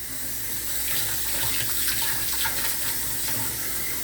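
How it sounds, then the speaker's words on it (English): Tap water runs steadily into a sink while hands are washed under it, a close, continuous splashing hiss with no talking. "let me wash my hands back off"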